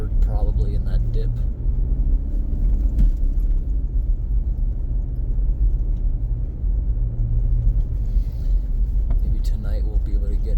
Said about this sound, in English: Driving over a culvert, probably in that dip.